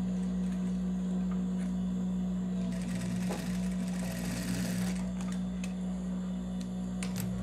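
A sewing machine stitches the waistband of a pair of jeans with a steady, close, humming whir. The machine runs continuously, and a brief louder burst of rattling comes midway, with no speech.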